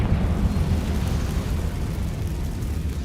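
Confringo spell explosion in Hogwarts Legacy, a loud, deep rumbling blast that rolls on steadily for a few seconds and slowly fades, with no talk.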